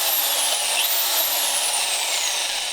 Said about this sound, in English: a handheld electric drill is almost as effective